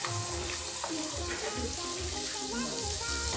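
Chicken breast searing briefly in melted margarine in a pan, giving a steady, close sizzle with a few soft knocks and stirring sounds throughout.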